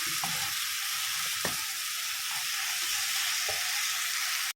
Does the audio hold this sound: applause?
no